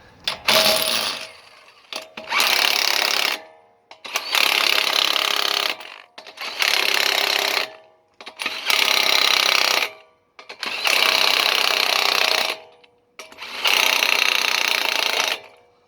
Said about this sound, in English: This is my 12 or 18 volt snap-on impact.